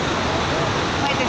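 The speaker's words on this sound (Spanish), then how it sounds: "A la cascada de los Molinos." Waterfall at Cascada de los Molinos in Colombia's coffee region, a steady broadband roar filling the short moment, loud and continuous with no clear breaks.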